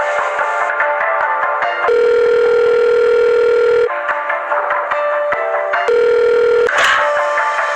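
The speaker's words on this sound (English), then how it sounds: "This phone call that I hired a member of Anonymous to hack from the White House." A telephone line with steady electronic tones cycling on and off in roughly two-second blocks, with clicks and short dialing-like tones between them, loud and close, with no voices.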